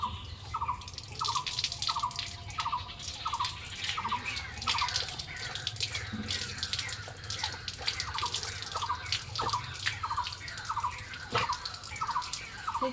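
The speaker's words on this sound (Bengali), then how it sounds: "চলো আমি এখন জলটা ভরে নিই" Water runs steadily from a tap into a container, a close, continuous rush with a faint squeak that repeats at a regular beat throughout and no voices.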